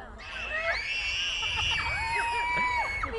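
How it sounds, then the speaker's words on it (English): A crowd at a county fair pig race screams and yells, with overlapping high-pitched shrieks and whoops from many voices, including children, sustained at close range. "Jump up and down, scream and yell."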